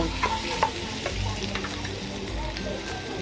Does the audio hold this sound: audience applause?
no